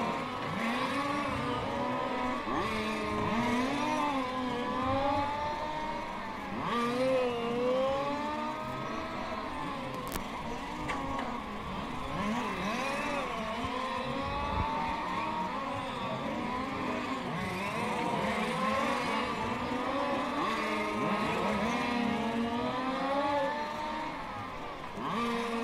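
Race cars racing at the Race Car Series Velp, with several engines revving and shifting up and down in overlapping sweeps as cars pass, heard continuously from trackside at moderate distance.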